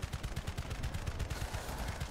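Shotgun fire in the game The First Descendant, rapid repeated blasts in a steady rhythm, loud and close with no talk over them.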